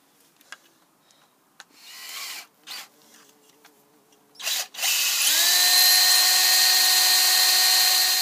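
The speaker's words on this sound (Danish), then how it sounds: "så tager du og borer et lille hul i den her plade her" A few short scrapes and handling noises, then a power drill spins up and bores a small hole in a plate with a loud, steady high whine.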